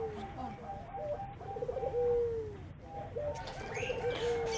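Perkutut, puter and derkuku doves at a bird farm coo repeatedly in soft, low, rolling phrases, with a few brighter chirps and light background noise around them.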